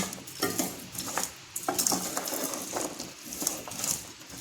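Red chilli powder gets stirred into a bean curry in a pan, heard as repeated scraping and clanking strokes of a spoon against metal over a light sizzle, close and fairly loud, with no talking.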